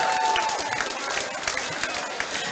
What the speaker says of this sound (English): How about a round of applause for both of these fighters